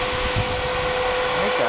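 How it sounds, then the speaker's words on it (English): An electric cooling fan runs in an MK4 VW GTI, a steady whooshing airflow with a constant tonal whine, close and even, with a voice murmuring over it. "So the fan is on, as you guys can probably hear."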